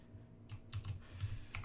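Quick bursts of keystrokes on a computer keyboard, close and fairly quiet, in short irregular runs.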